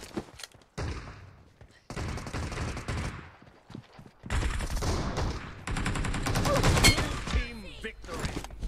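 Rapid bursts of game gunfire crackle in dense volleys, loud and sustained, with brief pauses between exchanges, from a Rush match in a hard lobby with players campers using pump shotguns.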